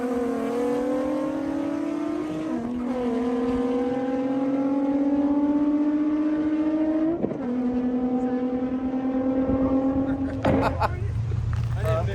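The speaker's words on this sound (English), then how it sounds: "That's my car motor." A car engine at a Friday night drag strip test and tune revs hard and loud, its pitch climbing steadily before dropping back at each gear shift, then cutting to a lower, rougher idle near the end.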